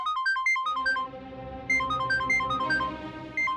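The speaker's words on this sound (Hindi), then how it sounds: "वो किसी निशा का फोन है।" A mobile phone ringtone plays a bright repeating electronic melody in short bursts, loud and close, with brief gaps between phrases over a soft musical backing in a Hindi TV drama scene.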